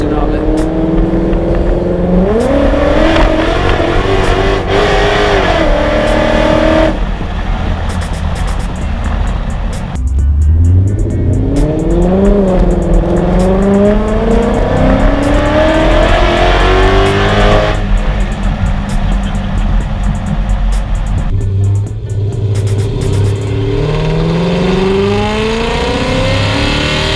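Repeated loud revs from a 2011 Ford Mustang fitted with a 3-inch MBRP longtube header exhaust, close up, with rising and falling engine pitch across several sweeps and a deep rumble at idle between them; voices may be mixed in.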